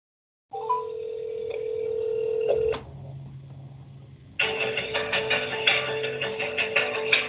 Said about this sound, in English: I'm just gonna make this phone call one more time.